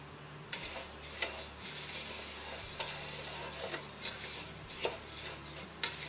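Puffed rice is dry-fried and stirred in a pan, with a soft steady rustle and sizzle broken by sharp scraping strokes of the stirring utensil at irregular intervals.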